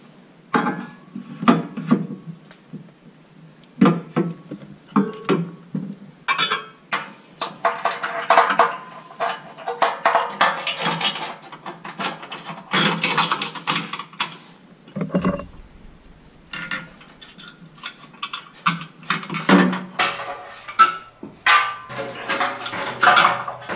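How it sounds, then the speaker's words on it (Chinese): Metal tools clink and clank against bolts as a tow bar is fastened to a car's rear bumper. Irregular bursts of metallic knocks, scraping and ratcheting come close up, with short pauses between the working sounds. "用螺丝把它固定住。"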